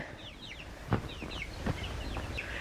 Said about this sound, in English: picking up these leftover Cornish cross chickens